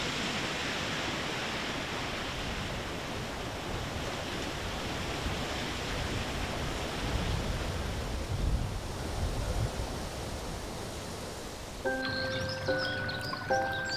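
Clear water flows steadily through the rear royal garden of Changdeokgung Palace, fed from the Eungbong ridge of Bugaksan. It makes a continuous, even rushing wash, and soft music enters near the end.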